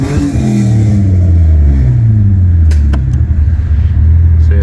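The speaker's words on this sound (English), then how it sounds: "give it a couple of rev bangs." A 1990 Ford EA Fairmont engine revs hard in neutral, a loud close rumble climbing and falling through a couple of quick blips before settling back, with a few sharp clicks in between.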